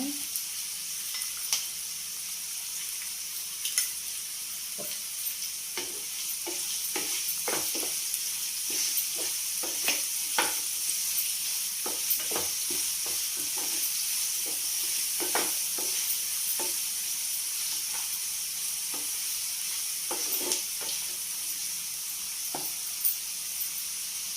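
Onions fry with a pinch of salt in a pan, giving a steady close sizzle dotted with scattered crackles and pops for the whole stretch, with no talking.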